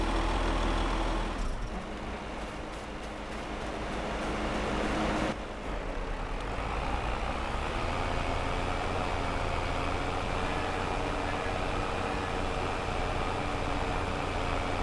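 A 750-horsepower Volvo truck driving in Farm Sim 22 during a harvest, a steady, low engine drone that holds throughout, dipping briefly before settling into an even rumble, with no talk.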